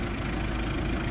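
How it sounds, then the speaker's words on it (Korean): A Hyundai Porter 2 truck with a turbo intercooler diesel engine idles close by, giving a steady, even low rumble with a slight rough knock and no break. "요건 터보 인터쿨러 엔진이고요."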